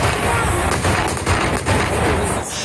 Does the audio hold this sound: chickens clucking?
no